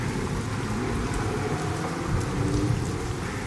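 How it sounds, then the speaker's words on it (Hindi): Heavy rain pours down steadily in a dense, continuous roar, with a low rumble beneath it and no voices. "तभी अचानक जोर जोर से बारिश होने लगती है।"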